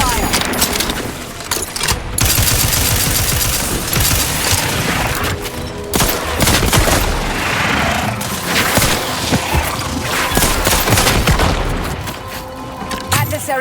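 Dense, loud gunfire and booms in the video game The Outer Worlds 2 keep up almost continuously with rapid bursts and impacts, while a voice speaks over the battle.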